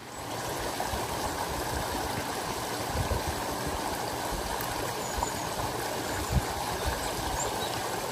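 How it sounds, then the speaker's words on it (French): A steady rush of shallow water flowing over stones at a stream ford, the Regrimet in Isère and Drôme, France, constant and fairly close, with no voices. "Ce ruisseau s'appelle le Regrimet"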